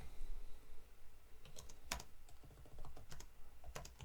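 Typing code on a computer keyboard, with scattered clicks and short runs of keystrokes over a soft steady background hiss, one sharper key hit standing out, fairly quiet and close.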